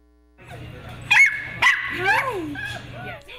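Dogs bark, yip and whimper at a non-profit animal rescue shelter, a few sharp, close barks followed by whining yelps, with a steady low hum in the background.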